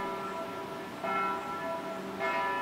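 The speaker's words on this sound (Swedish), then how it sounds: "Efter en liten stund börjar kyrkklockorna också ringa." Church bells ring in Sundsvall as the 1888 fire breaks out, with two clear strikes about a second apart over a steady wash of resonant hum and background noise.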